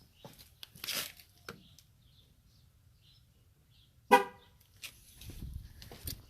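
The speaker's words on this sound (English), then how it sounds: "you'll hear the 2 honks to let you know that you're done" Two loud, short horn blasts from a 2018 Chevrolet Silverado LTZ signal the end of a tire pressure sensor relearn, with quiet outdoor background between them and brief handling noises.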